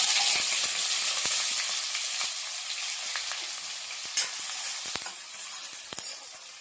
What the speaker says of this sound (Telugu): ఆయిల్ అయితే వేడైందండి. ఇగో జీలకర్ర వేస్తున్నా.